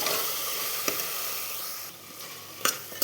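One kilo of bone-in mutton sautés with onion, tomato and spices in a pan, giving a continuous hissing sizzle close by, broken by a few sharp scrapes and clatters of stirring.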